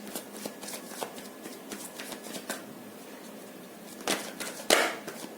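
A tarot deck is shuffled by hand close up: soft, rapid riffling and flicking of cards in short bursts, then a sharper flurry of card snaps toward the end, with no voice over it.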